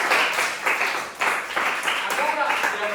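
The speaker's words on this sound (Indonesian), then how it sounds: "tepuk tangan buat Windy" Students at a school long-jump lesson clap in applause, uneven rhythmic bursts of hand claps from a group, fairly close and loud, lasting a few seconds.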